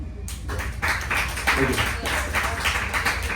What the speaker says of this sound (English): Just continuous clap the whole time.